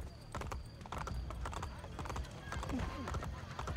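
Hooves clip-clop at a steady trot from a horse in the game Assassin's Creed Brotherhood, with a brief whinny partway through, while someone talks over them.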